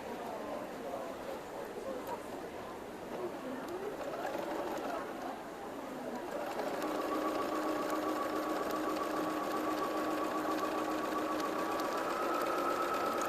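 Sewing machine stitching pieces of a quilt at a festival demonstration, heard faintly; a soft, uneven whir gives way about halfway through to a steady, continuous running hum.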